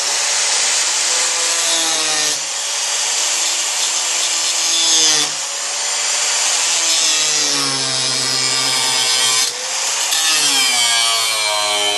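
Sawing through Home Depot wood stock to cut tabs for a 1965 VW front Safari window build, a continuous rasping cut with shifting pitch that runs steadily for the whole stretch and briefly pauses between strokes.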